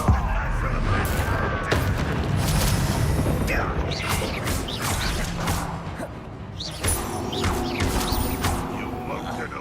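Confringo fire spell exploding in Hogwarts Legacy combat, a booming blast followed by crackling debris and thuds amid dense game noise, with a voice casting the spell.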